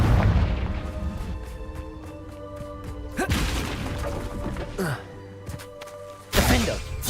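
Confringo fire-spell blasts in Hogwarts Legacy: several heavy booming explosions land at intervals, each a sharp loud burst with a rumbling tail, over a low game-ambience bed with some voices.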